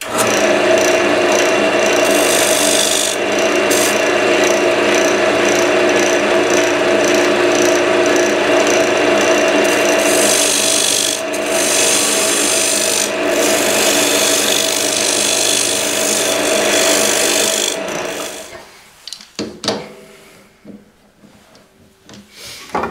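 A detail carbide tool cuts into a spinning maple bowl on a wood lathe, giving a steady, loud scraping hiss with faint rhythmic ticking that runs nearly unbroken, then drops off into quieter scattered scrapes near the end.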